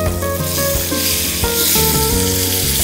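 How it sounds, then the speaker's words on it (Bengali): Steak frying in a pan with oil and chopped garlic gives a steady, close, continuous sizzle, with a tonal music-like layer running underneath throughout. "স্টেকটাও কিন্তু নেড়ে দিতে হবে।"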